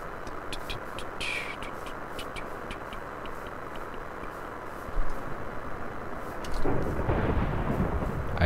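Minecraft thunderstorm, a low distant rumble of thunder rolling steadily with a heavier crack and swelling roar near the end, fairly faint and alone without talk.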